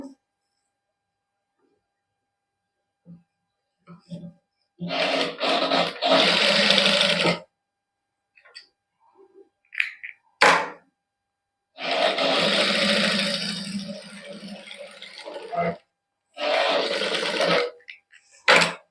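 A sewing machine stitches fabric for a suit in several loud, close bursts of rapid whirring separated by quiet pauses, with brief handling noises between runs.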